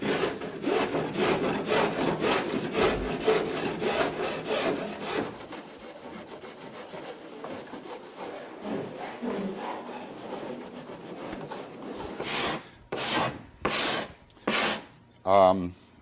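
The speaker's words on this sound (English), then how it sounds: "The first thing we want to do is file this down to the level of the wood, really just to make it safe." A file rasps back and forth across hardened epoxy on a wooden kayak deck, evening it level with the wood in steady repeated strokes, close and loud, ending in a few slower, separated passes.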